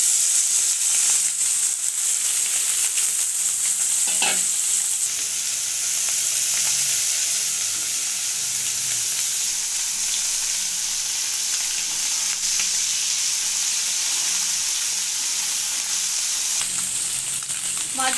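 Small chuno fish fry in hot oil in a wok, giving a loud, steady close sizzle throughout with a few faint stirring clatters and no voices.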